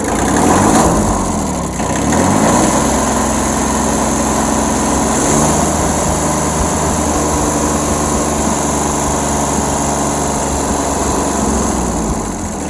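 A Kubota tractor engine runs smooth and loud up close, then revs up as gas is given and holds a steady higher drone for several seconds, no voices.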